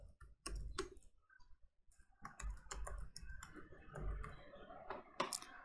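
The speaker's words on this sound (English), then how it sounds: "So I'm just going to type my credential" Close, quiet clicking of computer keyboard keys as login credentials are typed, irregular bursts of taps with brief pauses and a slightly louder flurry near the end, no speech.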